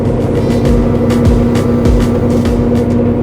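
A heavy truck engine rumbles steadily with a low, throbbing exhaust-brake purr while descending a steep mountain road on the Isle of Man, a constant close drone with faint periodic whooshes.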